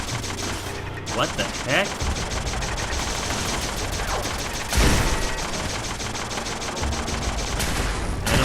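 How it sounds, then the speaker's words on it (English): Turret in Fallout 4 firing in rapid, continuous bursts, a loud mechanical rattle that keeps going nearly the whole time, with someone briefly speaking over it. "Sounds like a turret, but sick. It's like a sick turret."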